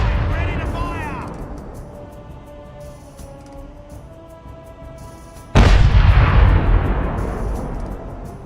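Ship cannons fire a broadside in the pirate sailing game Caribbean Legend: Age of Pirates. A rumbling, fading boom opens, then after a quieter stretch comes a sudden loud, deep volley of cannon blasts that rolls on, with a voice speaking.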